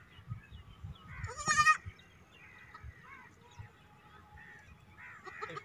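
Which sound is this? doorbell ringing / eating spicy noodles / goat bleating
goat bleating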